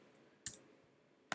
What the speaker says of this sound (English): I can just double click to edit these.